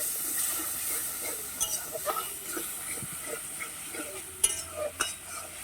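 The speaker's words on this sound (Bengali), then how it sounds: "এবার ভালো করে মশলাটা কষে নিই" A spice paste of turmeric, salt and sugar for a fish curry is sautéed in a pan, making a soft, low sizzle with intermittent spatula scrapes and taps and no talking.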